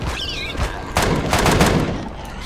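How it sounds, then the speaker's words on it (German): A turret opens fire in the video game Empyrion, sending rapid, loud bursts of gunfire that blur into a dense rattling roll lasting a couple of seconds. "Jetzt muss er auch mal schießen."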